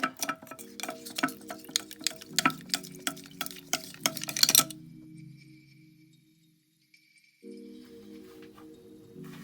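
Brushes swirl in a glass of water, clicking and tapping against the glass in a quick, steady rhythm that stops halfway through, followed by quiet hum.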